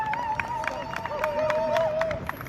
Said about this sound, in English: Got people behind clapping, giving full support.